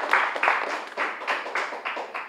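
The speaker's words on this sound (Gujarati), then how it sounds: "હું માનું છું કે બહુ નબળી તાળીઓ છે" Thin, scattered audience applause at a Gujarati film talk show, a few bursts of clapping that rise and fade irregularly without building into a full ovation.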